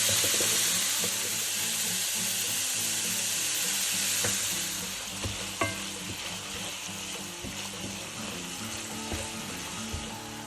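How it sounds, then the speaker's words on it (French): Minced beef browning in a frying pan with golden onions for chili con carne, sizzling loudly and continuously up close, with occasional scraping stirs and clinks of a utensil. "j'ajoute la viande hachée et je vais la faire brunir"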